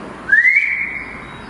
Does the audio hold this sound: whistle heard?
yes